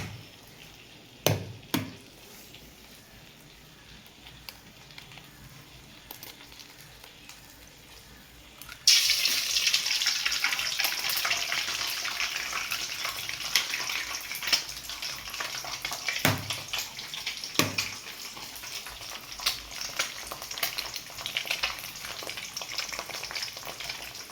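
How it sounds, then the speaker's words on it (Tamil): Eggs cracked into a pan of hot oil with cinnamon stick, for home-style chicken fried rice: a couple of light knocks, then a sudden bright sizzle that keeps crackling steadily and close up to the end. "கொஞ்சம் எண்ணெய் ஊற்றிட்டு ஒரு பட்டை லவங்கம் போட்டு முட்டையை உடச்சி ஊற்றணும்"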